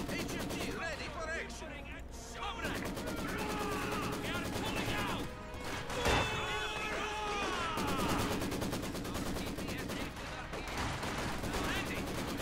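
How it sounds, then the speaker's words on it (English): Rapid machine gun bursts crackle in the video game Company of Heroes 2, with dense repeated shots, scattered impacts and a sharp blast near the middle, while voices talk over the battle. "Machine gun"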